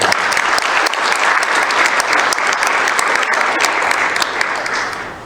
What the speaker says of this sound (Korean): 큰 박수를 한번 쳐주시기 바랍니다.